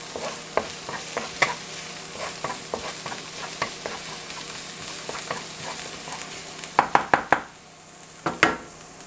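Radish sautés in a pan for chicken and shrimp pad thai: a soft sizzle runs underneath scattered spatula scrapes and knocks, with a quick burst of louder clacks near the end.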